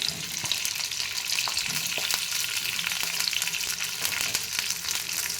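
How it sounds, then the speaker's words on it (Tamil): Cut okra fries in oil in a kadai, giving a steady, moderately loud bubbling sizzle with scattered crackles and pops throughout, and no voices. "இது எண்ணெயில் போட்டு நல்லா ட்ரையாக வறுத்துக்கலாம்"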